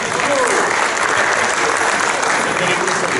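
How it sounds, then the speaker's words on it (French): A conference audience breaks into sustained applause, a dense, even wash of clapping that runs loud throughout. "Et on peut l'applaudir."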